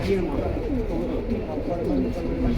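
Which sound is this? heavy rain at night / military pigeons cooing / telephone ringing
military pigeons cooing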